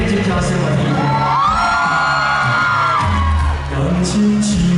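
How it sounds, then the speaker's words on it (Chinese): A large crowd at an outdoor temple-festival banquet and evening concert in front of a sports arena screams, whoops and cheers loudly and continuously, with shouts rising in waves close by. "再来给我一点尖叫声，我听一听。"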